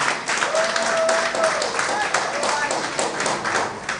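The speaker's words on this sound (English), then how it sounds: "Please clap for him." Applause from the audience at a KNUST content-creation masterclass for faculty members, a steady wash of clapping filling the room for several seconds, with voices murmuring underneath.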